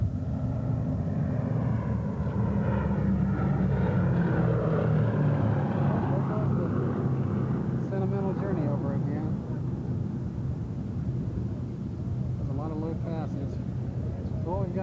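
A World War II P-40 Warhawk fighter runs its engine at an airshow, a low droning rumble that lingers throughout while people talk nearby over it.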